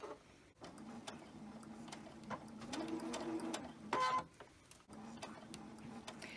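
A sewing machine stitches a seam slowly and steadily, a low, even mechanical hum running through most of the stretch with brief pauses and a couple of short stops, moderately close and on its own.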